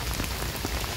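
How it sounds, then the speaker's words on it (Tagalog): Heavy rain pours steadily onto surfaces, a dense, continuous hiss and patter that stays loud and even throughout with no voices. "kasi nga ang lakas ng ulan"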